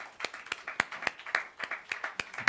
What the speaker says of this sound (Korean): 주님께 영광의 박수 한번 올리겠습니다.